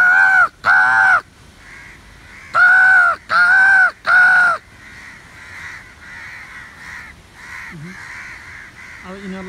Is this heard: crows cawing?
yes